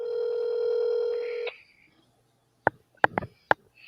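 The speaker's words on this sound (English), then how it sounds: "Let me call this number." A phone ringback tone purrs steadily for about a second and a half while a number is dialed, then breaks off, followed by a few sharp clicks and knocks.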